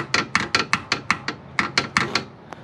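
Worn sway bar bushing at the driver's-side front of a 1989 Toyota Avalon gives a string of about a dozen sharp, knocking rattles in quick uneven rhythm, close and clear with no talk.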